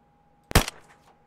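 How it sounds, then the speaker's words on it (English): A single sharp rifle gunshot in the survival video game DayZ, one loud close crack with a short rolling echo tail, standing alone against near-silence. "Listen to the gunshot."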